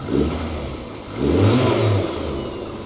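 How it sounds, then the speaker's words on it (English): A Toyota KP61 Starlet with a turbocharged 4A-GE engine revs twice in quick succession, rising and falling roars over a steady idle, close and fairly loud. "So, just give it a couple of revs."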